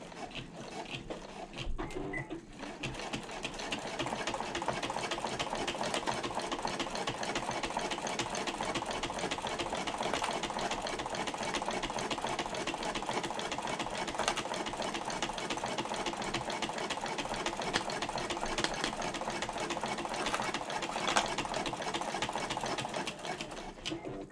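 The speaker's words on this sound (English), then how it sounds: "we are going to top stitch this top edge here" A sewing machine top stitches the top edge of a bag's front exterior, a steady rapid mechanical chatter running continuously and evenly at close range with a faint background hum.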